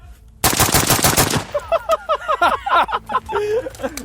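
A compact URG-I 11.5 rifle fires 5.56 rounds in a loud, rapid burst at close range, and brief echoes ring out afterward as the shots fade.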